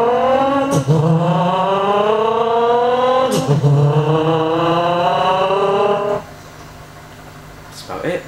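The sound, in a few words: beatbox imitation of a car shifting gears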